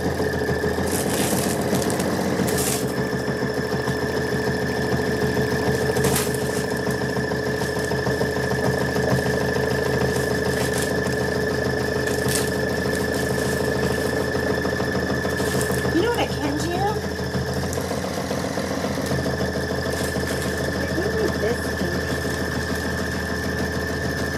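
A Kimberbell design stitching out on an embroidery machine, a continuous mechanical hum and rapid needle chatter that runs loud and unbroken throughout, with a voice talking over it at times.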